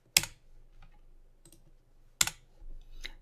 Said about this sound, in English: just go to your keyboard and hit this delete key to get rid of that object